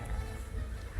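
Dogs in the video game Kingdom Come: Deliverance 2 growl and bark in a steady low rumble that swells louder at the end, with faint voices mixed underneath.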